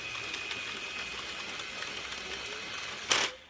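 A Sentro or Addi circular knitting machine is cranked steadily, giving a continuous light mechanical whir with faint rhythmic clicking, close by, which ends in a brief louder clack.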